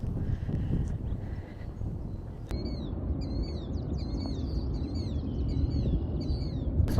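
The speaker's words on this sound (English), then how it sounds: "But oh my gosh, lots and lots of birds." Many birds call and chirp in quick repeated bursts at Indiana Dunes National Park, moderately close over steady low outdoor rumble and wind, with a sharp click partway through.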